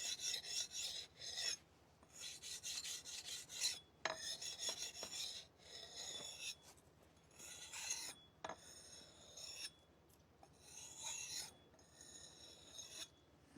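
An old man sharpens an axe blade in the countryside, giving rhythmic rasping strokes in bursts with short gaps, close but fairly quiet, with a few sharp metallic ticks between passes.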